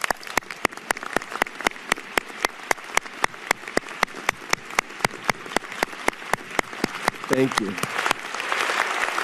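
An audience applauds faculty at a medical school commencement, steady sharp claps at a brisk even rhythm for several seconds. A brief voice speaks over it near the end as the clapping thins and a broad crowd noise swells.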